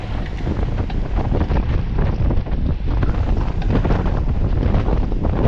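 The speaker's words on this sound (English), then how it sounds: "it gets kind of windy here" Strong wind beside Utah Lake during a group bike ride roars and buffets the microphone in a constant, loud, unbroken rush with no voices.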